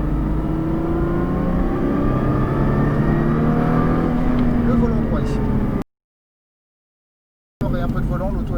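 A Nissan GT-R engine accelerates hard on a race track, its rising drone steady and close, with voices talking over it. The sound cuts out briefly near the end, then resumes.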